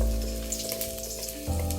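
Garlic frying in hot cooking oil for mung bean stew, a steady close sizzle with small crackles, louder at the end, no talk.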